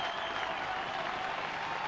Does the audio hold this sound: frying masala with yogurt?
no